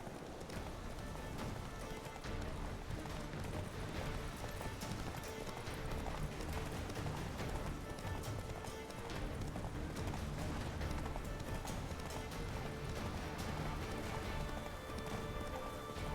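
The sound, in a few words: horse galloping in The Witcher 3 video game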